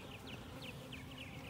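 Faint, steady buzzing of honey bees close by around an open hive, with a few brief whining passes as insects fly near.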